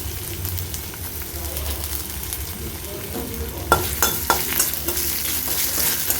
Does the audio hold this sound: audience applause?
no